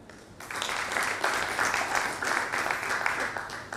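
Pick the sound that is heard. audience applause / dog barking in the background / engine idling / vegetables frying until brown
audience applause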